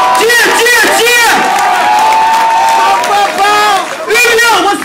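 A concert crowd at a hip-hop show cheers and shouts loudly and continuously, many voices rising and falling together in a dense, close roar.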